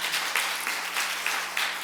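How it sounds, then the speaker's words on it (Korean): A church congregation at a Sunday worship service claps steadily to welcome a visiting pastor, a brief, dense and even round of applause with no voices over it. "목사님 나오실 때 박수로 환영해 주시죠"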